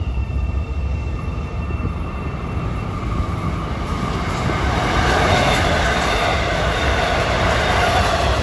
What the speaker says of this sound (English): at 6:17 westbound comes our last diesel train we'll see here today.